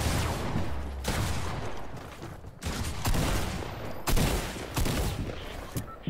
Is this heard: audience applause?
no